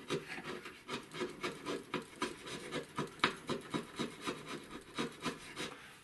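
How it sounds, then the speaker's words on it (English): A hand scraper shaves wood on a pistol case being fitted, giving steady rhythmic rasping strokes about twice a second, close and moderately loud with no talk. "I'm working it down with my scraper."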